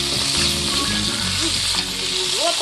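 Sausage sizzles and crackles steadily in a hot frying pan, a dense close hiss running throughout with a few brief higher tones and no talking.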